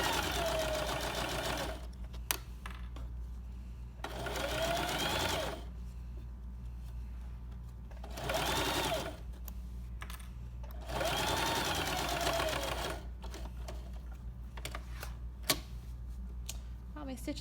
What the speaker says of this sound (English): So we just really want to edge stitch this with like an 1/8 inch seam allowance around the whole thing.